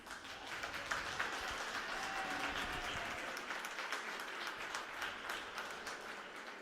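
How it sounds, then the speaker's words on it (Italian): Spectators at a roller hockey match between Breganze and Montecchio Precalcino applaud the Breganze goalkeeper, a faint, distant patter of clapping spread across the arena for several seconds. "Applauso del pubblico"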